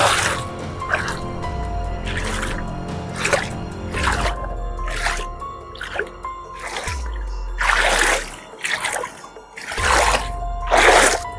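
Clear water in a river among forests splashes and gurgles at close range in repeated bursts, with quieter dripping and trickling between them.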